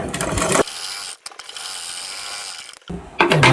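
A sewing machine stitches a princess cut blouse, its needle chattering in rapid mechanical bursts at the start and end, with a quieter, lighter run of clicking in between.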